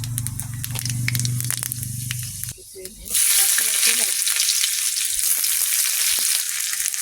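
Panch phoron spices dropped into hot oil, a low clattering stir giving way after a brief pause to a loud, bright, sustained crackling sizzle up close, no talk.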